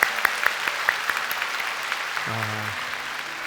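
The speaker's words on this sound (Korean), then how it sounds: "우리 박수로 한번 축복하고 격려하면 좋겠습니다." A church congregation at a Manna Church worship service breaks into steady, dense applause, with a few sharper claps standing out early and a brief low instrumental tone near the end.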